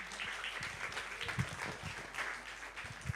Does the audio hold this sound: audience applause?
yes